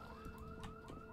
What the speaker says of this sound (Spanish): Alarma.